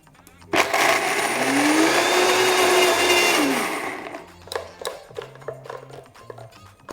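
A Vitamix blender chops Brazil nuts and seeds with a loud, close motor whine that rises and holds for about three seconds, then stops, followed by scattered knocks and rattles of pieces settling in the jar.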